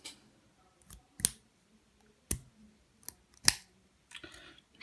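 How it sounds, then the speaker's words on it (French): Scissors from a coil-building tool kit snip through vaping wick cotton in about six crisp, separate cuts spaced irregularly, each a sharp close click against a quiet background. "Une paire de ciseaux pour le coton."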